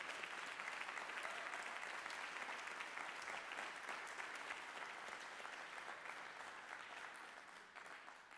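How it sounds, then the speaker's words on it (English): An audience at a spoken word and poetry night gives the performers a long round of applause, full dense clapping that holds steady and then slowly fades toward the end. "Give them another round of applause, please."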